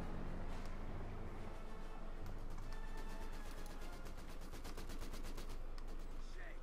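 Vickers machine gun firing in Company of Heroes 2, a long sustained rattle of rapid bursts under battle ambience, with faint voices in the background.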